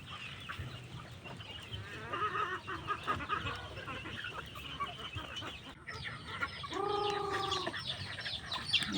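A flock of farm chickens clucking busily while being fed, a steady close chorus of overlapping clucks and squawks with a louder, longer call near the end and faint background noise throughout.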